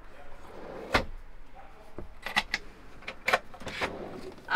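Drawers sliding open and shut in the kitchen unit of a 2022 VanTourer 540 D camper van, a series of close, sharp clacks and thumps at irregular intervals, with soft talk between them.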